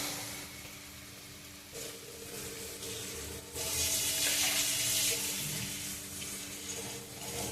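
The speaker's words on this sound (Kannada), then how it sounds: "ನೀರು ಪಾಡ್ಬೇಕು" Water pours into a cooking pot of half-cooked masala gravy, a soft splashing rush that swells louder midway and keeps running, with faint sizzling beneath and no voices.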